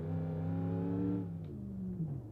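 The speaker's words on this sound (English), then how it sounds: "I guess it could have a more interesting engine sound." A car engine in the BeamNG.drive racing game hums steadily at high revs, then drops in pitch as it slows, a smooth continuous drone close up with no talk.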